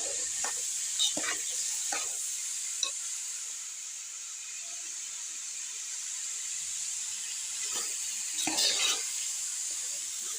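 Tomato thokku frying in oil while being stirred, a steady high sizzle with scattered scraping stirs and spatters, close and moderately quiet.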